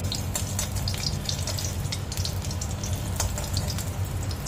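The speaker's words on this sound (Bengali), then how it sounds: "ফুলকপিটাও দিয়ে এটাকে আমি একটু লাল করে ভেজে নিচ্ছি" Cauliflower frying in oil in a pan, a close, steady sizzle with dense crackling and popping over a low continuous hum, unbroken throughout.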